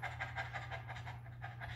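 A voice imitates a small, overheated dog panting with the tongue out, a steady run of quick, breathy in-and-out puffs, close and fairly quiet, with no words spoken.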